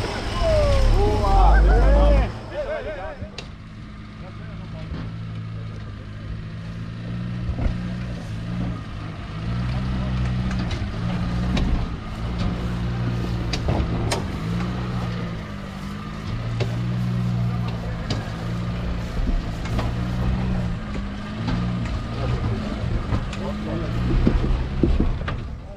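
A Troller and a Mitsubishi TR4 on an off-road trail, with engines droning and straining at a steady low pitch and occasional louder pushes, while voices shout over the noise.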